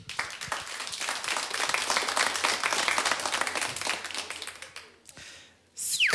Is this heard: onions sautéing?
no